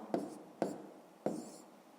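A pen writes column multiplication on paper in three short, distinct scratching strokes, evenly spaced and close, with no talk over them.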